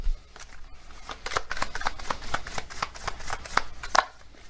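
Oracle cards are shuffled and handled in a close, quiet series of soft papery riffles and slaps with an uneven rhythm, and no one speaks.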